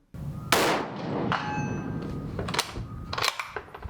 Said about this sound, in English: Let's take it to 200 and shoot another 3-shot group at 200 yards